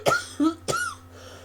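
Two or three sharp coughs in quick succession from a person nearby, loud and close, followed by a short fading breath.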